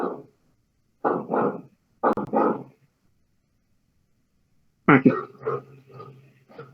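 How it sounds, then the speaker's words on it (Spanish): Dogs bark in short bursts, a few separate volleys with quiet gaps, followed by a string of smaller yips; a brief word is spoken. "Disculpen por los perros"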